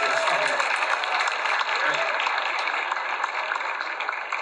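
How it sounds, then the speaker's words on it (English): An audience at a live podcast show with an awards mention breaks into sustained applause and cheering, a dense wash of clapping heard throughout, with a brief voice underneath. "give everybody a round of applause"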